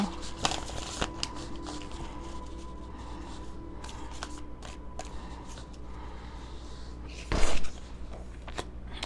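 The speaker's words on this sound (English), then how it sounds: "I want to pull some affirmation cards for you." A deck of affirmation cards being shuffled by hand, with soft repeated riffling and flicking over a low background hum and a louder burst of card noise near the end, close and fairly quiet, with no talking.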